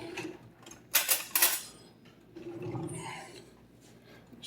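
A knife fetched from a kitchen drawer during burger preparation, a brief burst of metallic cutlery clatter and jangling, followed by quieter handling noises.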